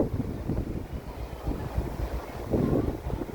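Steady wind buffeting a microphone at a beach in the Philippines, a low rumbling roar throughout with a stronger gust near the end, no voices.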